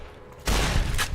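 Fallout: New Vegas gunfire hits abruptly after a quiet start, a loud burst of shots with a second blast following about half a second later, no talking.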